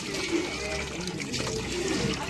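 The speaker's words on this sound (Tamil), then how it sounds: "தண்ணியை ஊற்றிக்கிடுவோம்" Water pours and splashes with a soft, continuous trickle while cooking fish head curry, fairly quiet and close.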